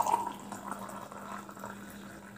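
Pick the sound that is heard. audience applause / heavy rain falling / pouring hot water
pouring hot water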